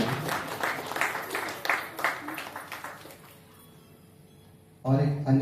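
Audience applause for a student band at a state-level painting competition event: a burst of many hands clapping that gradually fades out, followed by a speaker's voice starting up.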